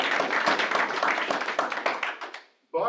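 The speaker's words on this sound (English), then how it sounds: "let's give him a round of applause." A short burst of applause, many hands clapping together, then fading out quickly before a brief new sound at the end.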